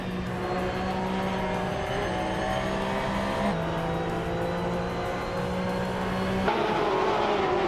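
Race cars, including a 2010 Porsche 911 GT3 Cup, pull away at the start of a race at Road Atlanta, engines droning loud and steady with rising and shifting gear tones.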